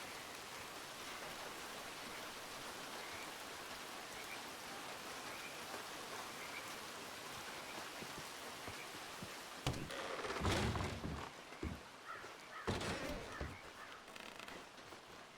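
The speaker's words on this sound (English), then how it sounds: "Oh, it's rain." Steady rain falls throughout, a constant hiss with louder spattering bursts and thumps near the end.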